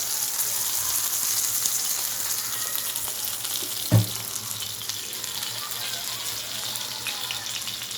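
Fish sizzle in hot oil in a wok, a steady crackling hiss throughout with a single sharp knock midway, close and fairly loud.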